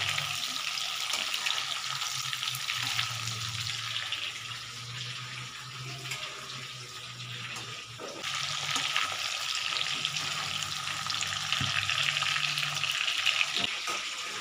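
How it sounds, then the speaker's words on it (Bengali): Cabbage fries lightly in a pan with a continuous soft sizzle and hiss, with occasional faint stirring knocks throughout and no voice. "দেখো হালকা হালকা করে ভাজার চেষ্টা করছি।"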